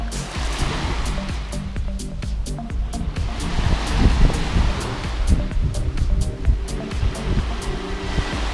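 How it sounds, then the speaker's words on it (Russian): Sea waves break and wash along Sochi beach on the Black Sea, a loud near roar of surf with irregular crashing swells, sharp clicks and splashes, and no talk. "Сочинский пляж."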